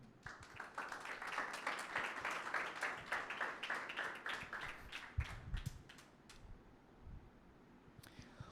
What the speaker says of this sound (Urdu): یسوع مسیح کے لیے تالیاں بجائیں.